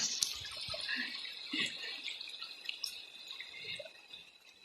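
Creek water in a stream, a faint steady trickle and babble with light splashes, distant and low throughout.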